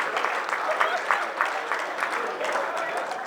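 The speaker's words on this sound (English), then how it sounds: "Give her a big round of applause for that" An audience at a mentalist's stage show breaks into a round of applause, steady, dense clapping with a few louder claps standing out, moderately close and continuous throughout.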